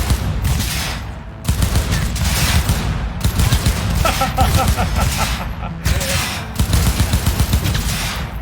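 Gunfire in the video game Cyberpunk 2077, loud rapid bursts of automatic shots in a dense fusillade with brief pauses between volleys, close and dominant throughout.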